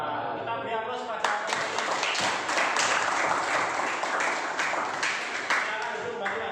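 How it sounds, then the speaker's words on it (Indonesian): An audience claps and applauds after a group presentation on battery maintenance, a steady burst of many hands close by lasting several seconds, with some talk mixed in. "Kita beri aplaus pada"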